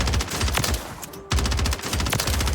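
An SMG fitted with a barrel attachment fires in Warzone 3, sounding as rapid, loud, continuous bursts of automatic gunfire with a brief pause in the middle before the shooting resumes.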